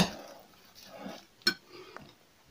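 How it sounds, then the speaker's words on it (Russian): Soft scraping and rustling of a utensil stirring a Chinese cabbage and tuna salad in a bowl, with a couple of light clinks against the dish. "Все хорошо перемешиваем."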